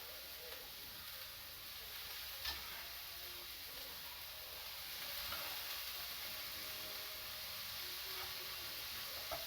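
Vegetables sauteing in a pan for a quiche, a steady soft sizzle and hiss running continuously at low level with a few faint ticks and clinks, no voices.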